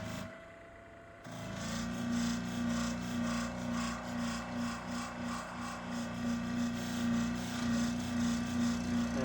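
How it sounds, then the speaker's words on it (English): A nicked blade from a brand-new pair of shears is polished on a sharpening stone, giving a steady, close rasping rub with a rhythmic back-and-forth pulse that begins after a short quiet opening. "And we're just polishing up."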